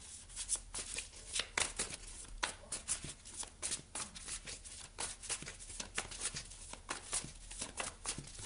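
Tarot cards being shuffled by hand for a reading, a steady run of crisp riffling and slapping card sounds close up, with no talking.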